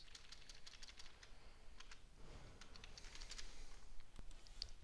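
Quiet typing on a computer keyboard while coding a Python program, with a steady patter of soft, close key clicks running through the whole stretch at a low level.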